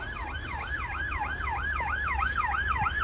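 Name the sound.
police car and ambulance sirens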